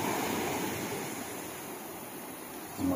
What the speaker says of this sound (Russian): Море шумит. Накатывает.